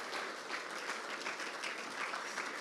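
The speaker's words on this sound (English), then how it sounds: "not before we get a round of applause for you two" A concert audience at MIT claps together in a dense, steady round of applause that sounds somewhat distant and stays even for a couple of seconds.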